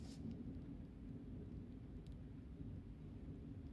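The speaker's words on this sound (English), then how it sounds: "As it starts to thunderstorm outside" A thunderstorm outdoors, with steady rain hissing and a low continuous rumble of thunder, fairly faint and even throughout with no voices.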